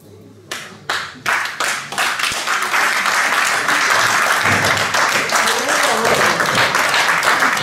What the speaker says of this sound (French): je voudrais qu'on acclame celle qui m'a fait découvrir Jésus-Christ de Nazareth.